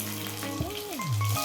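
Black cumin seeds and slit green chillies sizzle in leftover fish-frying oil, a steady close crackle with a low humming tone rising and falling beneath it.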